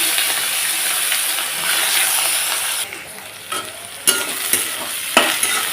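Bay leaves, whole cumin, a dry chilli and chopped onion fry in hot oil with a steady, loud sizzle and hiss, followed by several sharp stirring knocks and scrapes near the end, with no talking.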